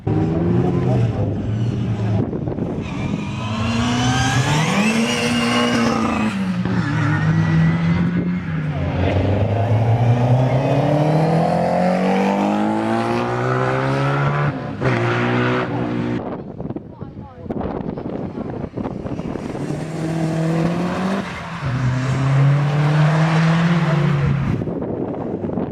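A Ford RS Turbo races past at Mallory Park circuit during a classic car show. Its loud engine revs rise and fall through gear changes, close and sustained, with people talking over it.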